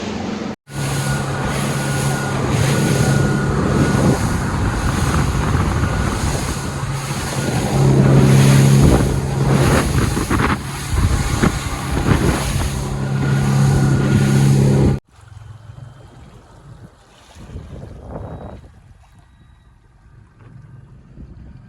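Boat motoring offshore at sea, wind around 6 knots, on a fishing run: a loud continuous engine roar mixed with water rush fills most of the stretch, then cuts to quieter wind and wave noise near the end.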